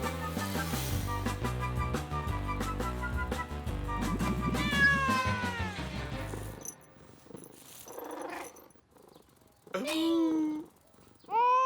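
Cartoon cat meowing in a few short, rising cries after a stretch of music, fairly close and clear, with a French lullaby being sung nearby.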